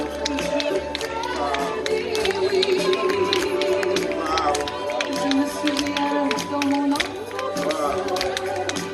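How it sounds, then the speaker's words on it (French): A congregation in a church claps steadily, with a quick, uneven patter of many hands. Voices from the crowd and what sounds like a speaker run over the clapping at a lively, close level. "Applaudis, madame, pour moi, s'il vous plaît."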